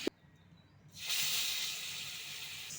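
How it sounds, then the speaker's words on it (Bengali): Shing fish, stinging catfish, dropped into hot oil in a pan: a short clack, then a sudden loud sizzling hiss that holds steady and slowly eases. "শিং মাছটাকে ভাজে নেব।"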